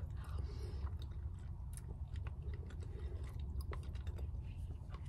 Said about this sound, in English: I think this is the slowest I've ever eaten on this channel.